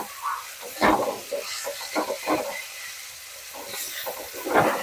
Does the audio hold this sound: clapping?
no